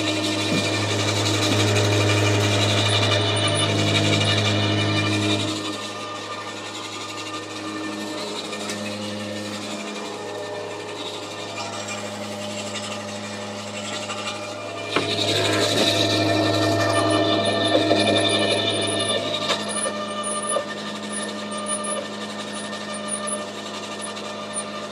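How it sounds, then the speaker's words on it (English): A Bosch AXT 25 TC garden shredder, nine years old, runs continuously to grind and sharpen its blade, a steady mechanical hum with a heavier grinding stretch near the start and again midway. "all I do is push it in, give it a turn, one click, and let it run"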